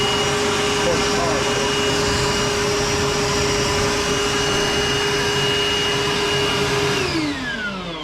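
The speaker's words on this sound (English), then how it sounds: "So now you can blow" A Milwaukee M18 wet-dry vacuum running in blower mode gives a loud, steady whooshing roar with a high whine, then spins down near the end.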